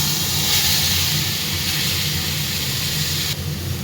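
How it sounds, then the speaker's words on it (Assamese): A paste of dried fish, garlic, onion and chilli sizzles loudly in hot oil in a kadai, a steady unbroken hiss that stays close and even throughout with no voices. "এতিয়া মই পেষ্ট কৰাখিনি গোটেই দি দিছোঁ।"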